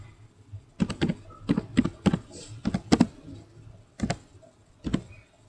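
Code being typed on a computer keyboard: a run of sharp key taps in uneven bursts, close and clear, with short pauses between groups of strokes.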